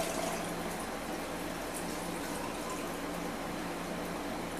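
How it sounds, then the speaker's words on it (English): Water pours steadily into a plastic shaker cup, a continuous bubbling, filling rush at moderate level with no break and no talk. "So we're just gonna pour in 16 ounces of water"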